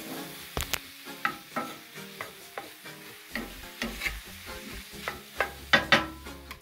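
Spaghetti squash stir-fried in a pan, with a spatula scraping and stirring in irregular strokes over a soft sizzle, close and moderately loud.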